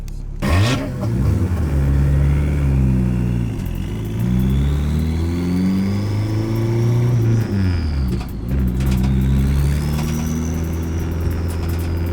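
A Nissan 240SX with a KA24DET engine accelerates on a test drive, its engine note climbing through the revs, dropping at two gear changes and pulling again, loud and heard from inside with no talk.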